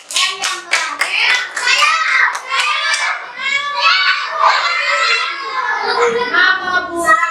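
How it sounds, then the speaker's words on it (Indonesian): A classroom of children claps together in a quick burst of rapid hand claps, loud and close, tapering into scattered claps and kids' chatter toward the end. "Tepuk tangan buat Nathan"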